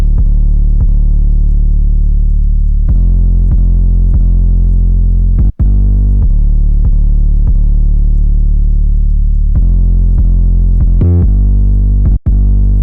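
A loud, fat 808 bass line programmed in FL Studio plays alone, sustained booming notes with sharp attacks in a simple repeating pattern, broken by two brief dropouts.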